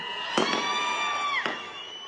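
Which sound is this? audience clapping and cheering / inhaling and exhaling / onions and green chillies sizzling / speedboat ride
audience clapping and cheering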